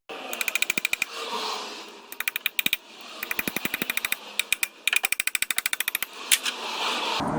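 Rapid metallic tapping on a stuck transmission sump pan of a Mitsubishi Pajero with a V5A51 automatic gearbox, struck to break the sealant loose; several quick bursts of sharp close taps separated by short pauses.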